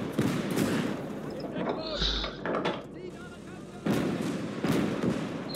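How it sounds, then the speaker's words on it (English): Heavy booming artillery and scattered gunshots from a German eastern-front battle in the video game Call to Arms: Gates of Hell, with loud blasts and bursts of fire. Someone talks over much of it. "Start laying down some rounds. They're doing some damage to him now"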